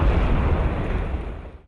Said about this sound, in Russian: Саперы МЧС приняли решение демонтировать громоотводный трос путем направленного взрыва.